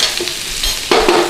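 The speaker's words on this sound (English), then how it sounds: "Get your potatoes in there. Give it a little stir through." Potatoes being stirred into corned beef hash frying in a pan, with a close, loud sizzle that swells as the spoon turns the mixture, no voices.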